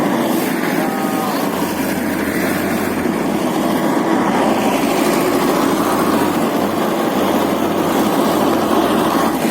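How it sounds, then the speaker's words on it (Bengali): A launch boat's engine runs as a loud, steady drone with a constant low hum beneath a broad wash of noise, unbroken for the whole stretch. "দেন গাইস আমরা একটা লঞ্চ নিয়ে নিচ্ছি।"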